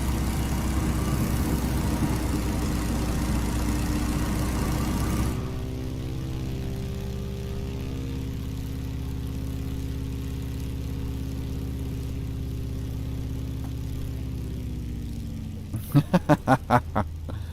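A DC Designs Stearman biplane with a fixed-pitch propeller drones steadily in a flight simulator, its engine note dropping to a softer, smoother throttle setting partway through, with a quick burst of clicks near the end.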